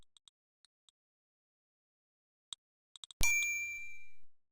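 A single counter bell from the Space Quest 6 video game is struck once and rings out bright and metallic, decaying over about a second after a few faint, sparse clicks.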